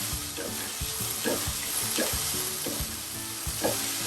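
Onions frying in a pan for a masala dosa filling hiss with a steady, close sizzle, and a rhythmic scraping of stirring repeats about every half second over it.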